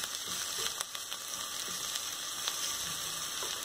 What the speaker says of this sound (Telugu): ఇంకా వేగాలండి. ఇంకా పూర్తిగా వేగలేదు, కాస్త బ్రౌన్ కలర్లోకి వస్తాయి.